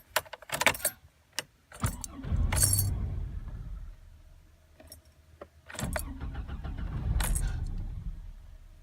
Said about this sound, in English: It starts up and then it dies.